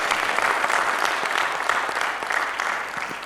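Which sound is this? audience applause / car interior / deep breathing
audience applause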